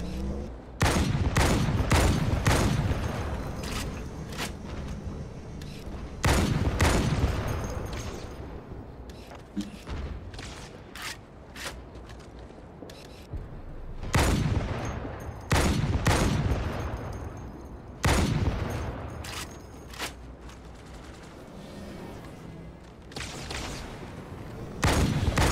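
Bursts of heavy gunfire and explosive booms from a Wraith tank in the video game Halo 2, loud impacts recurring every few seconds with rumbling decays between them.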